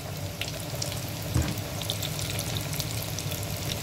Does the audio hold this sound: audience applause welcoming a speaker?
no